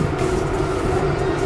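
A Central Railway local train runs on a cold morning with a constant low rumble and a steady mechanical hum, carrying on without a break throughout.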